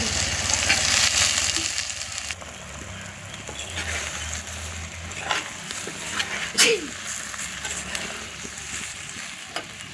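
Okra sizzling and frying in hot oil in a pan for a tamarind curry, a steady crackling hiss with occasional stirring scrapes, close and moderately loud with no talk.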